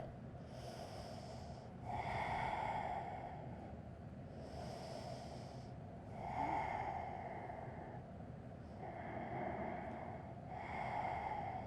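Slow, audible breaths in a yoga forward fold, with soft snort-like exhalations recurring every few seconds at close range over a quiet background.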